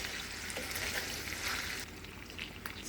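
Chicken skins frying in an ungreased pan, a continuous bright sizzle with scraping strokes of a utensil against the pan bottom, close and steady.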